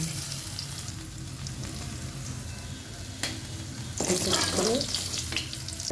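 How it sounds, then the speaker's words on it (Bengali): Potato and eggplant seasoned with turmeric and salt frying in oil, a close continuous sizzle with soft stirring, a sharp spatula knock and a louder burst of spattering near the end, no talk. "এখন এটা ভালো করে ভেজে নেব তা আলু বেগুনটা প্রায় ভাজা হয়ে গেছে"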